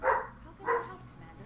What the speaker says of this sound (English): Apologies for the dog barking.